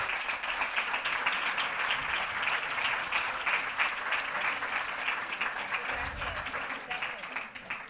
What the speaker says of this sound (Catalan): Un fort aplaudiment per a ell, per favor.